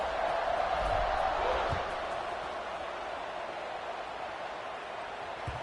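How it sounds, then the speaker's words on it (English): Steady stadium crowd buzz from an NCAA 26 college football video game, a broad continuous roar that swells a bit louder at first and then settles to an even murmur with no talk over it. "this crowd is buzzing after that last score"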